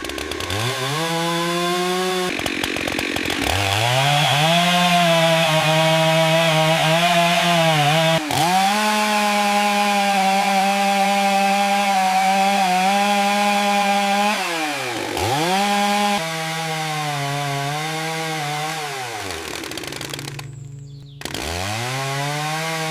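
A chainsaw roars loud and close as it cuts through a tree grown around a trapped 1964 John Deere 4020 tractor, the engine bogging and revving in long sustained passes with brief drops between cuts.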